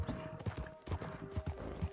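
Horse hooves in the video game Red Dead Redemption 2 clip-clop at a steady trot, close and fairly loud, with a faint steady tone running underneath.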